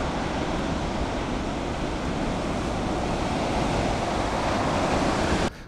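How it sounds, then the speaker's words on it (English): Heavy Pacific swells around 18 feet break along the Oregon shore in a steady, loud wash of surf with wind rumble, continuous until an abrupt cut at the end. "This is the Pacific Ocean."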